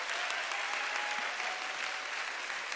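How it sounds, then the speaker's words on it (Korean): A crowd applauds steadily, a dense wash of clapping that holds at an even level from start to finish. "우리 박수로 한번 격려해주고 잘 들어가겠습니다."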